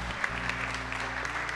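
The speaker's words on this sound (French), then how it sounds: "on a toutes les raisons du monde pour applaudir ce soir" Audience applause at a televised anniversary celebration, a steady wash of clapping filling the whole moment with faint tonal hum underneath and no one speaking.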